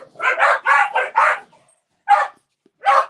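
Dogs bark in a quick burst of five sharp barks, followed by two more spaced-out barks, all loud and close, reacting to a neighbour mowing a lawn; no mower is audible.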